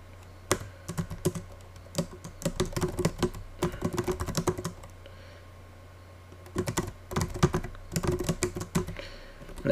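Code being typed on a computer keyboard while programming an Arduino Nano soil moisture sensor project, bursts of rapid close key clicks separated by short pauses.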